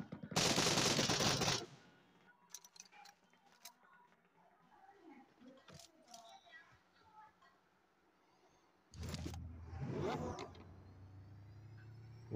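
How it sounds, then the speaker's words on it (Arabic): A new amphibious vehicle drives in the mobile game PUBG Mobile, its engine a low hum between loud bursts of gunfire at the start and near the end. "وهيدي آلية جديدة برمائية فينا نستخدمها بالمي وبالبر، وبتمشي شوي عالية عن الأرض"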